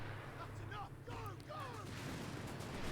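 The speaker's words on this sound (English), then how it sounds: "I think we called in an artillery strike" An artillery strike called in during a PvP video game battle where a Panzer is also in play: a dense, continuous rumble of blasts and gunfire that runs under someone talking throughout.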